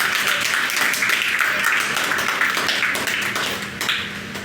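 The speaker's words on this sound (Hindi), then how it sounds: "तालियां बजाओ प्रार्थना बहन जी के लिए।" Sustained, dense clapping from a school audience at a prize-giving ceremony in Karauli, Rajasthan, honouring a sixth-grade student, steady and fairly loud throughout.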